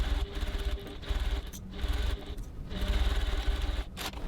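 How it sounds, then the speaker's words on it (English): A sewing machine runs in steady bursts, top stitching close to the edge of a bag pocket to close it, with short pauses between runs, close and moderately loud. "now I'm going to stitch my pocket closed"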